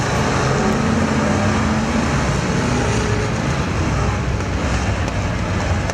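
Figure 8 race cars at Perris Auto Speedway roaring off under the green flag, a dense, loud, continuous engine roar with no break.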